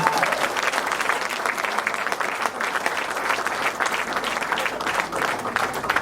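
An audience applauds the first lady at a reception for the Minister of Culture and Arts, with steady, dense clapping that stays loud and even throughout, with a faint crowd murmur underneath.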